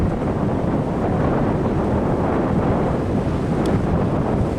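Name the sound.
wind blowing outdoors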